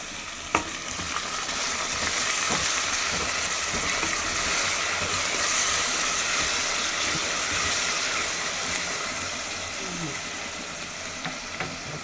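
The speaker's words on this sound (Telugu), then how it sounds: "ఇప్పుడైతే మెంతాకు వేసేసుకున్నాను." Fenugreek leaves sizzling in hot oil in a pan for a chicken curry, a steady, close frying hiss with occasional spoon scrapes and clicks throughout.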